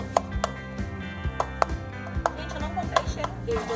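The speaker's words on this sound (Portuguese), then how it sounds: "E agora eu vou picar o meu repolho." Cabbage being chopped on a board, a quick uneven series of sharp knife thuds, close and fairly quiet, with a faint hum underneath.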